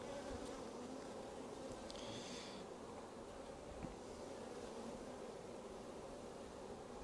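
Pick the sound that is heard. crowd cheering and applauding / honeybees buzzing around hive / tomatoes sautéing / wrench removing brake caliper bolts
honeybees buzzing around hive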